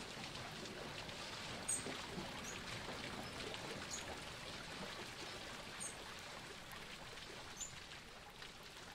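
Continuous soft rushing and trickling of water flowing in a stream in a city setting, steady and fairly faint, with no talking.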